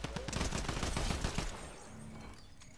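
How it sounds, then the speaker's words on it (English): Rapid bursts of gunfire in the video game Fortnite, dense and loud for about a second and a half, then thinning to scattered, quieter shots. "Somebody else shooting."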